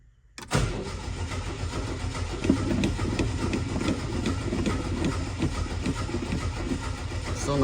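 A 1972 Ford Falcon that sat off the road for 16 years has its engine cranked by the starter. A sudden onset gives way to continuous, pulsing, rattly churning that stays loud and close throughout, with no speech.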